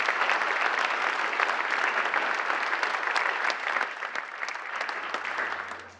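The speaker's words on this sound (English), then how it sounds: "Let's give them a big round of applause." A seminar audience applauds steadily for about six seconds, a dense, even wash of clapping that fades at the end.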